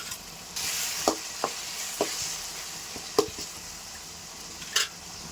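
Green chillies and mint sizzle and fry in a pan for egg semiya, a steady hiss broken by several sharp stirring clacks, close and fairly quiet.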